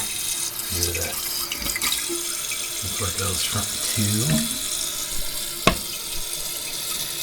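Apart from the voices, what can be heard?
toilet tank and bowl filling with water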